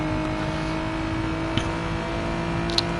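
A GT3 race car engine drones steadily in a sim racing game, a constant close hum with faint tonal layers and a couple of small clicks.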